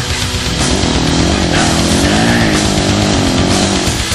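A Red Bull KTM rally motorcycle races at a Best in the Desert Vegas to Reno practice, its loud, buzzing engine revving and climbing in pitch close by, continuous throughout without speech.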